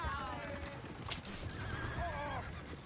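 Horses whinny in rising, wavering calls in Red Dead Redemption 2 during a train robbery, over a steady background rumble, with a sharp clatter midway and hooves faintly clopping.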